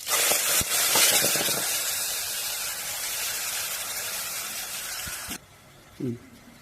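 Mustard seeds, urad dal and cumin tempering in hot oil for rasam in AMC cookware, a loud, bright sizzle with a few crackles and pops that holds for about five seconds, then cuts off to quiet with a brief sound after.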